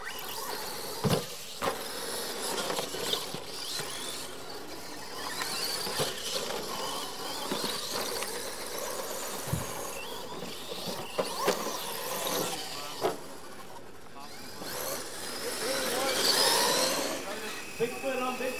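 Pro Mod RC monster trucks race outdoors on dirt, their electric motors whining and squealing at moderate distance with rising and falling revs, sharp bumps and landings, and voices talking over the action.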